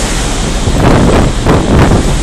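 Rough, choppy sea surging in broad waves with heavy wind buffeting the microphone, heard aboard a boat crossing toward Porto Torres in Sardinia; a continuous loud roar with swells building around each surge.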